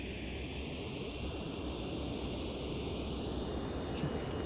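Sukhoi Su-27 jet engines drone steadily in the X-Plane flight simulator, a continuous loud whining roar with a faint rising tone, unbroken and without speech.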